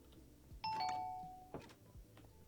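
A doorbell in the video game Minecraft sounds a clear two-note ding-dong chime. It rings out near and loud over quiet game ambience, followed by a few faint knocks.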